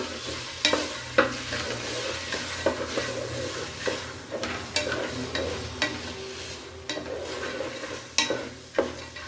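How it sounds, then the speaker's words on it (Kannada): Beans crackle and sizzle in hot tempering oil for a Karnataka-style field bean huli, with repeated sharp spits and pops over a steady frying hiss, close and fairly loud throughout. "ಇದು ಒಗ್ಗರಣೆ ಒಳಗಡೆ ಚೆನ್ನಾಗಿ ಬಿಸಿ ಆಗಬೇಕು"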